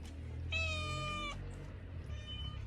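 A cat meows twice, one long clear call followed by a shorter fainter one, close by and quiet, with no talking.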